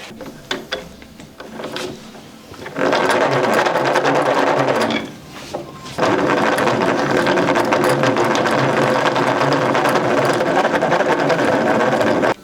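A domestic knitting machine clatters and ratchets as its carriage works a sweater, first in a quieter stretch, then in loud, steady mechanical runs broken by a brief pause midway.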